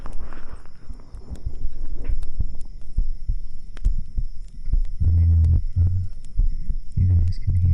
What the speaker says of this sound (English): You guys can hear the heartbeat.